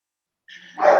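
A dog barks once or twice nearby, a short yappy burst that rises in loudness after a brief quieter sound.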